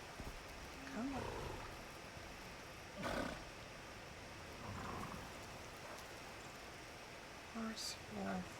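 Bear in the survival video game Icarus lets out several brief roars and growls at low level over a steady rain-like background hiss, spaced a few seconds apart.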